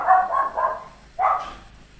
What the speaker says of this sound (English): Dog is going ballistic.